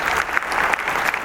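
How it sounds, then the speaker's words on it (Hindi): Audience at a university Teachers' Day celebration applauding to welcome the chancellor: dense, steady clapping from a crowd, fairly loud and continuous throughout, with no voices on top. "जोरदार तालियों के साथ स्वागत कीजिए"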